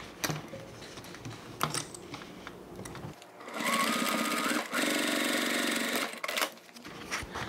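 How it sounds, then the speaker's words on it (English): A sewing machine stitches the side seam of a toiletry bag lining, running loud and steady in two long continuous bursts after a stretch of quieter handling clicks, with no talking. "This is the side, and we're going to sew the side seam."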